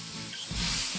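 Sauce mix being stirred into Maggi noodles sizzling in a pan, a soft, continuous frying hiss with light stirring that swells louder in the second half, heard alone at close range.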